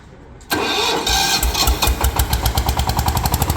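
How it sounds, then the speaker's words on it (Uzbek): A 1105 tractor engine starts after a quiet moment and roars into a loud, close idle, then settles into a fast, rhythmic diesel knock as the throttle is raised. "Gazi ko'tariladi."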